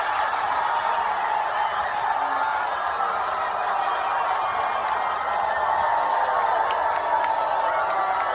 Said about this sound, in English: it's just the crowd reactions, dude